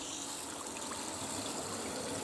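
Hot water from a portable propane outdoor camping water heater pours into a bucket, a steady hissing splash that continues unbroken.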